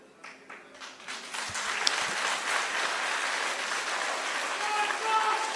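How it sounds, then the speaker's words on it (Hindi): Applause from a crowd at a Congress party workers' meeting in Srinagar: steady, dense clapping that swells and holds for several seconds, with voices mixed in. "एक बार ताली बजाई, खत्म"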